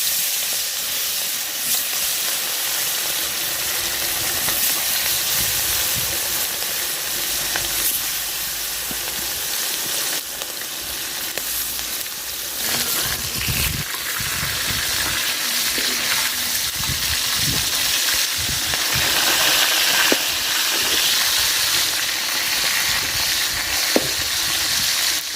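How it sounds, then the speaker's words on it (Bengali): Rupchanda fish frying in hot oil for a raw-mango fish dish, a loud, steady, close sizzle and hiss that carries on unbroken, with faint crackles and utensil touches. "তো তেল দিয়ে দিলাম মাছ ভাজার জন্য।"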